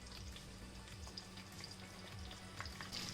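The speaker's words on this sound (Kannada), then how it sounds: "ಇವಾಗ ಈರುಳ್ಳಿನೂ ಫ್ರೈ ಮಾಡ್ಕೊಳ್ಳೋಣ" Sliced onions fry in a pan alongside curry leaves and ginger-garlic paste, giving a steady, dense sizzle with faint stirring scrapes throughout, and no talking.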